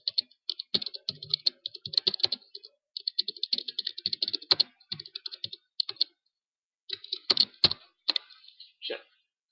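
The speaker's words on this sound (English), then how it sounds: "Sorry if you hear the keyboard clicking." Rapid clicking of a computer keyboard in irregular bursts, close and crisp, with short pauses between runs of keystrokes and a few louder taps.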